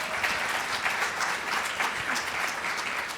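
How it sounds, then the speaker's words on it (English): Sustained crowd applause at an NFT.NYC 2022 panel of full-time artists, an even wash of many hands clapping for over three seconds, moderately loud and without speech. "Can we just get a round of applause for that?"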